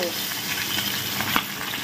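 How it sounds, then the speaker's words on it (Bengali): Close, busy sputtering and crackling of fish frying in hot oil, with sharp firecracker-like pops scattered through a constant sizzle. "বাজি ফটকার মতো চিরবির করে ফুটছে।"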